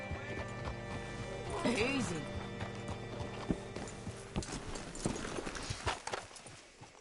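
Horse hooves clip-clopping in the video game Red Dead Redemption, uneven close hoof strikes with a brief neigh-like snort, a spoken word, and low background music and ambience beneath.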